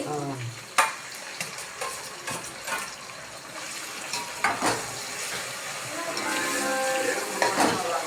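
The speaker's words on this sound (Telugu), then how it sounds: "ఎర్రగడ్డలు వేయించినాక టమోటాలు వేయాలి." Tomatoes fry in oil after onions in a pan, with a steady sizzle under repeated stirring scrapes and clinks of a spoon; close, and the frying grows fuller toward the end.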